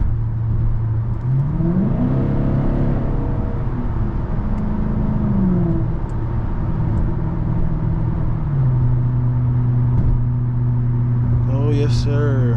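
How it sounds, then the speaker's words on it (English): Low, steady V8 engine drone of a Genesis car heard from inside while driving, pitch rising and falling with the revs, and a voice speaks over it. "Hopefully you guys can hear the engine a little bit better in the car."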